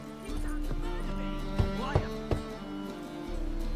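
Horse hooves clop in a loose trotting rhythm over a droning background in the video game The Witcher 3: Wild Hunt, with a few sharper hoof strikes standing out.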